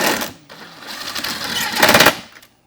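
A small 1/4 inch impact driver tightens the bumper bolts on a Jeep Wrangler JL Unlimited. It gives a short, close, loud burst of rapid hammering that builds to a sharper rattle before it stops.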